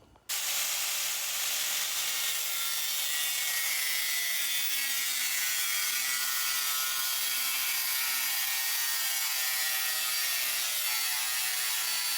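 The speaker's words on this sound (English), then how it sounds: "I'm going to take just the side angle grinder right there and rip around that little edge" An angle grinder rips around the edge of an RV roof vent fan housing, a loud unbroken whining rasp that starts abruptly and runs steadily to the end with no talk.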